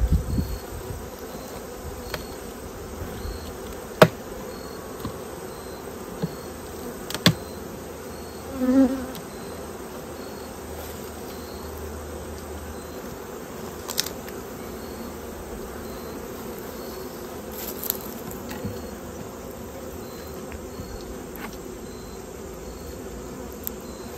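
Honeybees swarm around an opened hive during frame swapping, a steady close buzz that rises and falls as individual bees pass near, with occasional light knocks of equipment.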